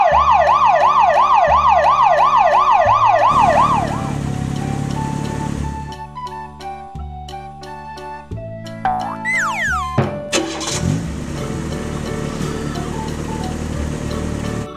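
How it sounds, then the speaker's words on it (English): A red toy fire truck sounds its electronic siren, a loud rapidly wailing tone that repeats in steady cycles, then gives way to a series of bright beeping jingle notes and a rising sweep, all close and alone with no talking. "Red fire truck."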